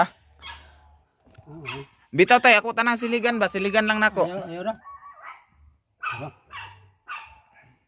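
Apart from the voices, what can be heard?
dogs barking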